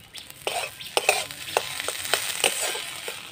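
A spatula stirs potato filling with coriander as it fries in a pan. Close, repeated scraping strokes come in an uneven rhythm over a soft, constant sizzle.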